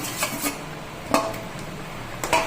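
Cleaned, peeled prawns dropped into a pot of bottle gourd, giving a few short scattered clinks and soft thuds of food and a utensil against the pot, fairly faint with quiet gaps between them.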